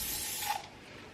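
Hairspray sprayed onto hair from underneath, one short, close pressurised hiss lasting about half a second that quickly fades.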